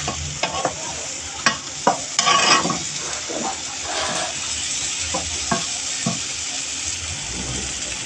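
A utensil scrapes and knocks repeatedly against a pan as mushrooms are stirred, over a continuous frying sizzle.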